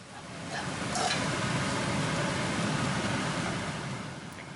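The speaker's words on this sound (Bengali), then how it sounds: "এটা খুব সুন্দরভাবে একটু ভাজা ভাজা করে একটু সময় নিয়ে একটু ভাজতে হবে" Beef tripe fries in a pan with a steady, even sizzle that swells and holds at moderate loudness, with no talk.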